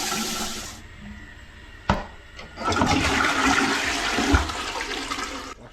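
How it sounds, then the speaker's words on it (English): A toilet flushes in a newly built DIY shed house in Australia: a loud rushing surge of water that swells and churns, then drains and refills, heard up close. "Flushing toilet."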